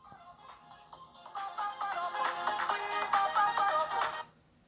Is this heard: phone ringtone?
yes